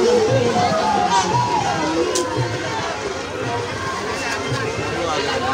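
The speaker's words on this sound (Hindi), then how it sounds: "ज्यादा भीड़ है, यहाँ पर मेले में ज्यादा।" A dense crowd packs a Shivratri fair at a Shambhu temple in Roop Nagar, giving a steady hubbub of overlapping voices and movement, fairly loud and continuous throughout.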